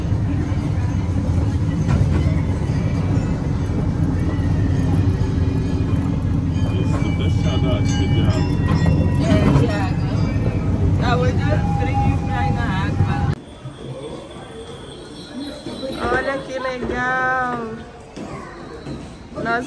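An amusement park train ride at Santa's Village rumbles along with a steady low rolling drone for most of the stretch, then drops away into quieter surroundings as children and adults chatter nearby.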